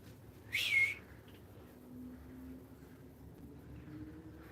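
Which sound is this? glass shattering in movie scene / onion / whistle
whistle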